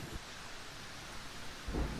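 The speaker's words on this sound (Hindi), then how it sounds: "लाडो, बाहर बहुत तेज बारिश हो रही है।" Heavy rain hisses steadily outside during a thunderstorm, with a deep rumble of thunder swelling near the end.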